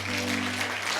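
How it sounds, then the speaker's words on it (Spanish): Church congregation applauding, a steady wash of many hands clapping together with a constant low hum of organ or sound system beneath, continuous and fairly loud throughout. "Denle un fuerte aplauso a Dios"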